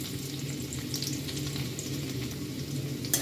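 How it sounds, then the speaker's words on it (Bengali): Carom seeds and chopped garlic sizzle steadily in a little white oil, a close, continuous frying crackle with faint clinks near the end and no talking. "সামান্য একটু সাদা তেল এর মধ্যে দিয়ে দেব হাফ চামচ মতো জোয়ান দিয়ে দিচ্ছি সামান্য একটু রসুন কুচি"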